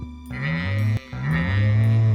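A sheep in the Stardew Valley video game bleats in two long, wavering calls with a short gap between them, clear and close, with no one talking over it.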